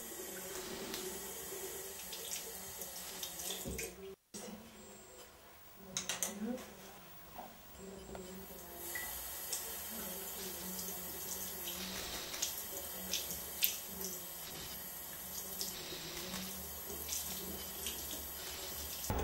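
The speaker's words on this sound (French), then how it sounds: "nettoyez régulièrement vos pinceaux, brosses et éponges à l'eau claire et au savon de Marseille" Tap water runs steadily while makeup brushes are washed, a broad hissing splash with a brief pause early on, then continuous, with faint handling noises underneath.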